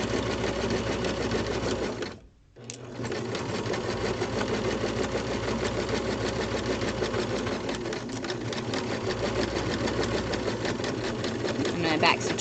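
A sewing machine back-stitches and then runs a continuous seam joining two fabric pieces for a pocket. The motor whirs steadily and close for most of the stretch, with one short pause near the start.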